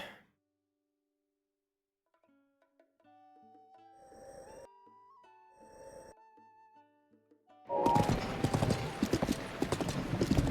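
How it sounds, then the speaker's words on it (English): Horse hooves clip-clopping as a horse is ridden in The Legend of Zelda: Breath of the Wild, a light rhythmic trot under soft game music that gives way to a louder, denser burst of sound. "Think it'll show up even though I'm riding a horse?"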